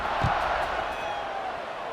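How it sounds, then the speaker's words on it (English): A stadium crowd in a college football video game, Buffalo at Akron, keeps up a steady loud roar with a brief thump near the start and no distinct cheers standing out. "this crowd is buzzing after that last score"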